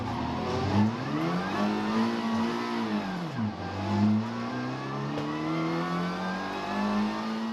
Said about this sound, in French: On revoit l'incident depuis la Honda de Renaud Cupens